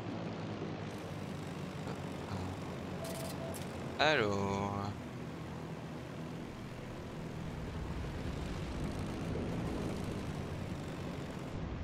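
Propeller aircraft engine droning steadily through flight in a video game, a fast plane compared with a reconnaissance aircraft, with a brief whining burst partway and someone talking over it.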